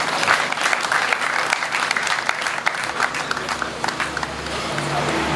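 A large audience gives a standing ovation to the director general of Socomac, with sustained dense applause and crowd noise throughout, and some voices mixed in.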